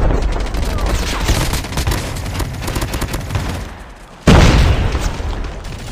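Gunfire in a video game, a dense stream of rapid shots and booms filling the first four seconds, then a short gap and a loud, close sniper-type blast followed by more firing.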